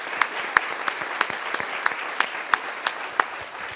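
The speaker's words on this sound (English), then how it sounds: "Big round of applause." Scattered applause at a community info and action night, a small crowd clapping steadily with distinct sharp individual claps standing out, fairly close and without talk.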